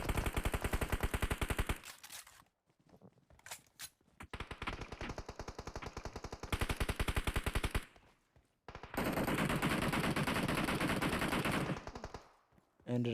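Loud automatic gunfire in a PUBG firefight, including an MK14 rifle, with long sustained bursts broken by short gaps and single shots, close and dominant with no talk.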